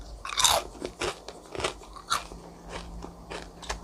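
Loud, close crunching as crispy deep-fried chicken skin is bitten and chewed, a quick run of sharp crackly bites with short pauses between them.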